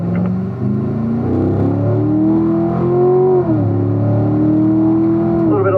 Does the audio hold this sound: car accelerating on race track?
yes